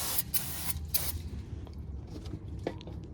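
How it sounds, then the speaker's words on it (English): Brake cleaner sprays onto a new brake rotor in a few short, sharp hissing bursts close by, followed by quieter handling sounds. "So I just take my brake clean and give it a good spray."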